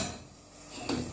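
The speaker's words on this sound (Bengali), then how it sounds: "আপাতত আমি একটা প্লেট দিয়ে একটু সময় আমি ডাকিয়ে রাখি" A plate set down over a cooking pot of tuna curry on the stove, a single short clatter of ceramic on metal near the end amid quiet kitchen background noise.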